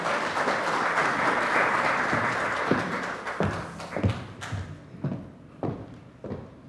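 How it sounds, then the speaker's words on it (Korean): An audience at a Korean debate forum on political rights for public officials and teachers claps loudly, the steady applause thinning into scattered individual claps and a few thuds near the end. "큰 박수 부탁드립니다."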